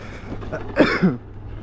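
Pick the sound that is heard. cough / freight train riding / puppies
cough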